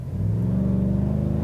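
A 2020 GMC Sierra AT4 with its 6.2L V8 and performance cat-back exhaust drones with a loud, deep, steady burbling growl, close by and alone, rising slightly in pitch.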